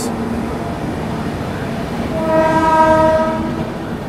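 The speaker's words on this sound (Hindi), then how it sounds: "बिहार संपर्क क्रांति एक्सप्रेस।" Bihar Sampark Kranti Express train passing nearby, a loud continuous rumble of rolling wagons with a sustained horn rising through the middle and fading toward the end.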